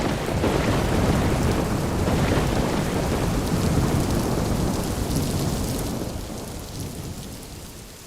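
Heavy rain pours down steadily in a thunderstorm, with dense broadband hiss and rumbling thunder that slowly fades toward the end before a sudden sharp sound; no one speaks.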